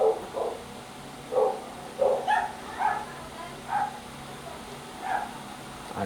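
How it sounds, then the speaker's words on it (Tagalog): Pet dogs bark in a series of short, sharp yips and woofs, about eight or nine distinct barks spaced irregularly over several seconds, moderately near against a steady background hum, with no talking. "Mag-ingay ng aking mga alaga, mga alagang aso."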